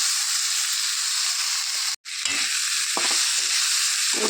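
Soaked rice with fried potatoes being stirred and fried in a pan, a dense continuous sizzle with scraping stirs, broken by a brief dropout midway.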